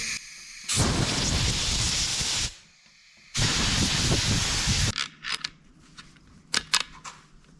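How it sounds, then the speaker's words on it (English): Compressed air blown into the oil holes of an engine during cleaning: two long, loud, close hissing blasts of about two seconds each with a short gap between them, followed by quieter clicks and taps. "I'm gonna blow some air in there. Shoot some air in there and make sure they're nice and clean too."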